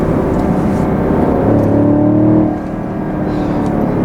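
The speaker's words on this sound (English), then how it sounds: "I love that pop on the upshifts" A 2020 Chevrolet Camaro 2SS with a 10-speed automatic revs hard through an upshift, its loud exhaust dropping in pitch at the shift with a brief pop, then carrying on at a lower drone.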